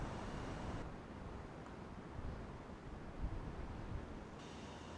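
Afternoon wind moves through ornamental panicum grasses in a garden, heard as a continuous soft rushing and buffeting with no clear breaks.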